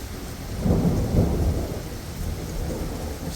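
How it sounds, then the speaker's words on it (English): Deep thunder rolls through a rainstorm, a low rumble that swells twice over steady falling rain, with no voices. "There's thunder."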